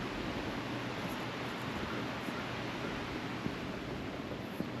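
A creek flows beside a campsite at a state park campground, a constant even rushing of water with no voices or other sounds.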